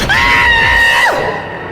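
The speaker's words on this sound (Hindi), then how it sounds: "सिद्धार्थ चीखा और झटके से अपना हाथ छुड़ा के पीछे आ गया।" A man lets out a single loud, drawn-out scream as a horror-story sound effect. The cry holds steady, then drops off sharply, leaving a low rumbling tail behind it.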